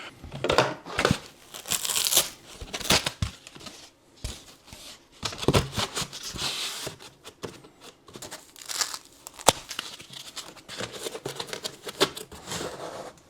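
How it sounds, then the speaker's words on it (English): Foam packing material for a ham radio battery box is cut and handled, giving continuous crinkling, scraping and crackling with irregular louder bursts all the way through, close up and with no talking. "I'm just going to cut this foam and put this down the side just to pack it out"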